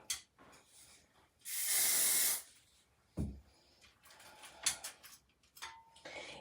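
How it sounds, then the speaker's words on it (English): Hairspray is sprayed onto small hair sections during curling: one steady hissing burst lasting about a second, with faint handling clicks and rustles around it. "It seems like it takes more time because I'm doing smaller sections and spraying each piece."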